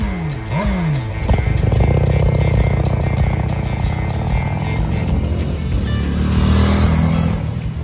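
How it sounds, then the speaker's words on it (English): A Honda Shadow Sabre VT1100 motorcycle engine warms up at idle before an oil change, a loud, steady, close rumble that runs without a break, with a brief rise in revs early on. "Make sure your bike is nice and warmed up before the oil change."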